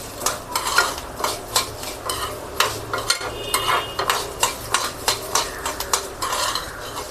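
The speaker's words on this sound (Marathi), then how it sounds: "चट चट सगळ्या डाळी उडत आहेत. लसूण छान परतवला जात आहे." Lentils and garlic crackle and fry in a pan while being stirred for a curry leaf chutney, with repeated sharp scraping strokes of a spoon against the pan over a steady sizzle, close and without speech.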